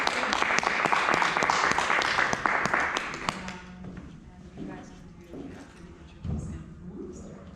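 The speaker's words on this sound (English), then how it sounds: "Big round of applause for Kate." Audience applause for a speaker at a disabled veterans' event, brisk clapping for a few seconds that tapers off into quieter room noise and murmuring voices.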